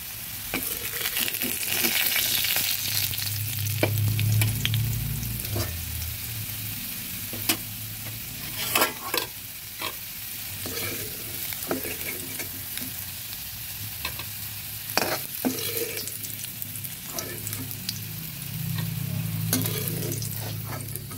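Potato pieces frying in oil in a kadai make a continuous close sizzle for about twenty seconds, broken by repeated scrapes and clinks of stirring and no talk.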